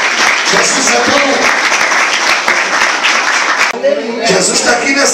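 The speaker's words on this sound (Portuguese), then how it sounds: "Palmas para o Rei de Jesus." A church congregation claps loudly and steadily, a dense close wash of applause with voices and cheers mixed in, easing briefly near the end before picking up again.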